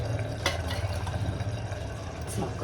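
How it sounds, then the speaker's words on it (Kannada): About a quarter cup of water is poured into a mixer grinder jar, making a steady, even splashing rush that lasts the whole moment with no talking. "ಸೊ ಇದಕ್ಕೆ ನಾನು 1/4 ಕಪ್ಪಷ್ಟು ನೀರು ಹಾಕ್ಕೊತಿದ್ದೀನಿ."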